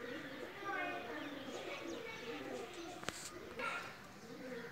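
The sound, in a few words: pigeon cooing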